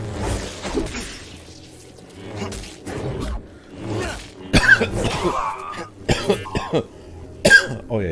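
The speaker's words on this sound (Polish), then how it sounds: "Ojej, przepraszam, jeśli kaszlnąłem prosto." A man coughs several times close to a microphone during a Star Wars Jedi: Fallen Order gaming session, sharp bursts spread over several seconds with throat clearing and faint game sounds between them.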